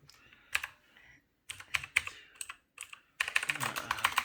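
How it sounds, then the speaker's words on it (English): Fingers tap on a computer keyboard in uneven clusters of close, crisp keystrokes with short pauses, ending in a quicker run of typing. "I can't really type well while recording"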